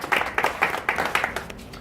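A classroom gives a short round of applause, about two seconds of quick, uneven hand claps from a small group, fairly near and moderately loud with no talking over them.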